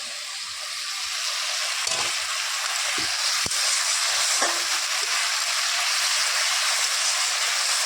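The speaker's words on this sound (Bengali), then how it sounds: "মশলা কষানো হয়ে গেছে" Spices fry in a pan over a clay stove with a steady, close, broadband sizzle that runs throughout, broken by a few sharp clicks and scrapes from stirring.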